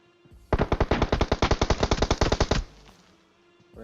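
Sustained automatic gunfire in the mobile battle royale game PUBG Mobile, a rapid burst of roughly twenty evenly spaced shots lasting about two seconds, loud and close, with no talk over it.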